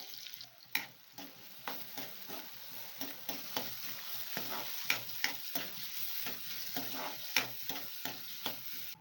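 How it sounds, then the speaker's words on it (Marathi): Onion stirred and fried with cumin and mustard seeds in a pan for a kantoli (spiny gourd) vegetable dish, giving steady sizzling broken by frequent scraping clicks of a spoon, close and moderately loud, with no voices. "आता कांदा टाकू आणि कांदा मस्तपैकी असा परतून घ्या"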